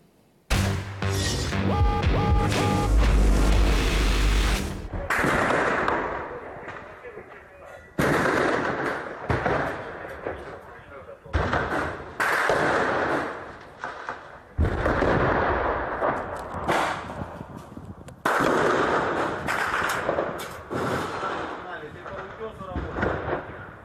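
Gunfire during an assault on Donetsk airport in eastern Ukraine: repeated sharp bursts and heavy bangs recur every few seconds, loud and near, with chaotic combat noise between them.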